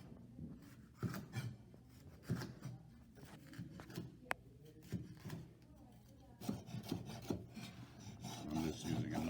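A kitchen knife slices a cucumber into strips on a cutting board for a cucumber salad, a run of soft, close chopping taps and scrapes in an uneven rhythm, growing busier toward the end.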